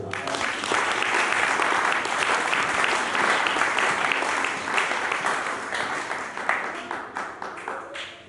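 A church congregation bursts into sustained applause during a sermon, a dense wash of many hands clapping that holds strong, then thins and fades toward the end.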